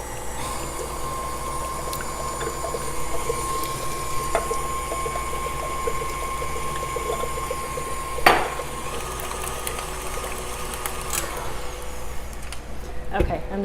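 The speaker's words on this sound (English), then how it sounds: "we are gonna mix in the egg yolks" An electric mixer whirs steadily as it beats egg yolks into a citrus pie filling, a constant motor hum with a whining tone and a brief clatter midway, and no talk over it.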